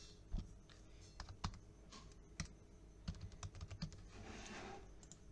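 Computer keyboard typing as a voter card EPIC number is entered, with irregular clusters of close, crisp keystrokes and short pauses between bursts.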